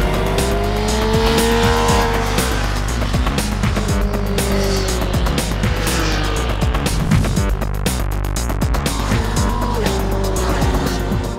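Motorcycles in the 3500 € price range run timed laps on a race circuit, engines loud and close, revving steadily with rising and falling pitch through gear changes and continuous roar throughout.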